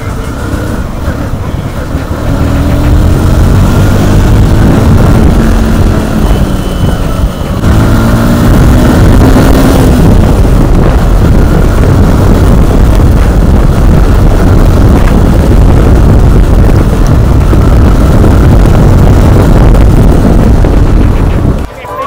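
Loud modified motorcycles, including a Honda CBR, roaring past on an evening ride in Kolkata, engine drone heavily mixed with wind buffeting on a moving microphone throughout.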